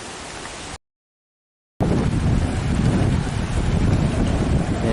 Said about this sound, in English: it is going to be windy when we get down there